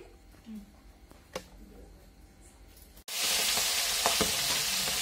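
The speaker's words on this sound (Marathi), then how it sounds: "आता मिरच्या तळून घ्यायच्या आहे म्हणजे मिरची एकदम नरम होऊन जाईल तेलामध्ये" Green chili peppers, salted for mirchi bhaji, drop into hot oil and set off a sudden loud, steady sizzle up close after a few seconds of quiet kitchen clatter.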